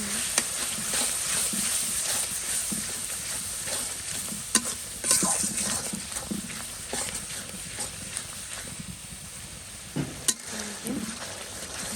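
Chilies frying in a pan of spiced oil, a steady close sizzle with scattered sharp crackles and stirring scrapes throughout.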